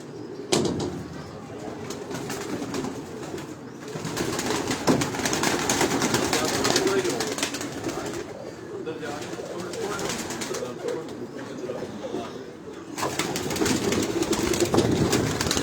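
Pigeons coo in soft, repeated bursts alongside fluttering and shuffling noises on a rooftop in Lahore, with people talking faintly in the background.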